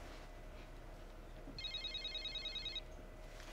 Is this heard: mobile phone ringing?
yes